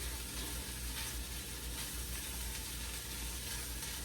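Ham sizzles quietly in a pan, a steady soft hiss and crackle with no voices.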